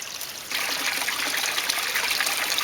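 Water from an aquaponics fish tank line pours steadily into the sump, a continuous close trickling splash that rises in strength after a brief quieter start and runs alone without talk.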